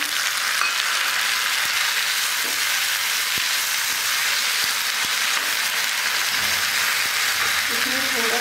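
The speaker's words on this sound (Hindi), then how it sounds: "प्याज को हमें अच्छे से भून लेना है।" Onions and tomatoes fry in a pan for chana dal fara, a steady bright sizzle running throughout with a few soft stirring knocks.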